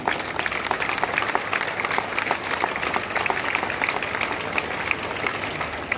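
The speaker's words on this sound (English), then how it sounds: "Please give a big round of applause for the Jan family." Sustained applause from a crowd at a school foundation day celebration, dense clapping that stays even and fairly loud throughout with no voices standing out.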